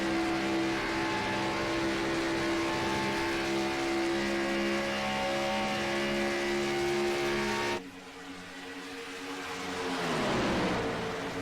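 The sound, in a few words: stock race car engines racing at Atlanta in a racing video game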